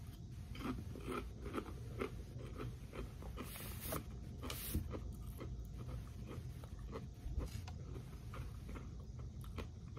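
Lay's Sweet & Spicy Honey potato chips are chewed close to the mic, a steady run of crisp crunches and bites over ten seconds above a low constant background hum.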